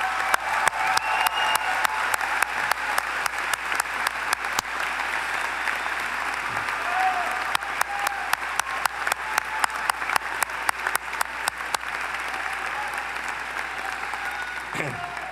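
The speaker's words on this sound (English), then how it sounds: "join me in a round of applause for all your friends, families, and professors who helped make this day possible" Commencement audience applause at a graduation ceremony, a sustained wash of many hands clapping with sharp individual claps popping out, steady and fairly distant from start to finish.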